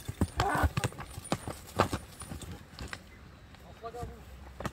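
A horse's hooves clip-clop close by in a quick irregular rhythm, loud at first and then quieter, with brief talk and a faint jingle underneath.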